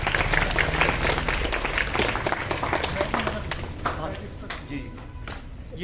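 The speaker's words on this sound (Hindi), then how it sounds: "सर के नाम की एक ताली बजाएंगे आप।" Classroom audience applauding a teacher during a school work-education activity, clapping steadily throughout with voices mixed in, fading slightly toward the end.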